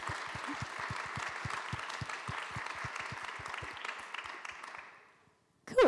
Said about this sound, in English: join me in giving a round of applause to these wonderful people